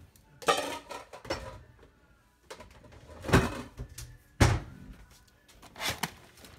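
Plating a meal-prep chopped salad of chicken and spinach into a bowl for lunch makes scattered close clinks, scrapes and knocks of utensils against dishes, arriving in separate bursts with quiet gaps between.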